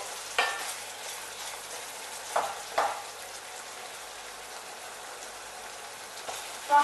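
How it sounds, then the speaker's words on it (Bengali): Spice paste frying in oil in a pan for Bengali rohu fish in yogurt, a soft steady sizzle with a few brief stirring scrapes, fairly quiet and close, with no talking. "মশলা ভালো করে কষা হলে মশলা থেকে তেল ছেড়ে দেবে"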